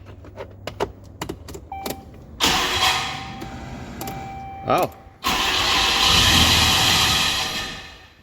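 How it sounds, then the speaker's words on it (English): Truck engine being started during a transmission torque converter noise check, with a few clicks and cranking bursts followed by the engine catching and running loudly and steadily up close; a voice briefly speaks. "So I'm gonna start it again and see if the noise went away."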